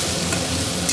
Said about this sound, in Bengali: ভাজা হচ্ছে আলু দিয়ে